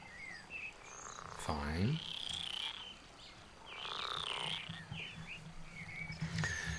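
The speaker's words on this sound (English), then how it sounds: "The rocky bank smells fresh and is filled with the sounds of frogs, insects, and birds." Riverbank ambience in the video game Roadwarden: chirping birds and trilling frogs and insects rise and fall over a low, steady background, fairly quiet, with a brief spoken word near the start.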